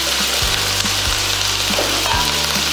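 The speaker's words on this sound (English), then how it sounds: "So now we're getting our strong sizzle." Loud, steady sizzling of rice frying in hot oil, with a few low thumps and scrapes, no talking.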